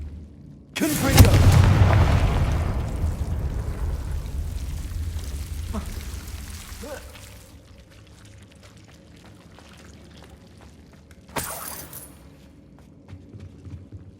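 Confringo blast spells go off in the Hogwarts Legacy video game. A loud explosive burst is followed by a long rumbling decay, and a second sharp blast comes later. Faint game ambience fills the gaps.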